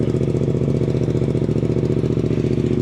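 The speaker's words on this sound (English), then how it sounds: "first listen, cold start with the Yoshi on the GSX-8R" Suzuki GSX-8R motorcycle fitted with a Yoshimura exhaust idling after a cold start, a close, steady, throbbing parallel-twin burble with an even, rapid pulse and no revving.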